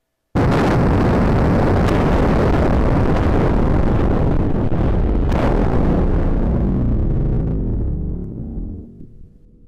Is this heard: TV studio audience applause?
no